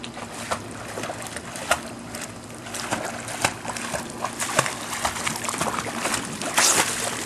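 A child swims in a pool, with close irregular splashes and sloshing water throughout and a louder burst of splashing near the end.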